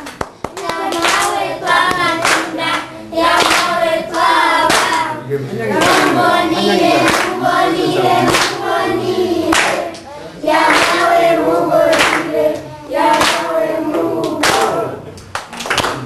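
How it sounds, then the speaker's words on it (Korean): Rhythmic hand clapping from a congregation at an outdoor Mass in Uganda, steady and loud, with singing voices and music mixed throughout. "박수."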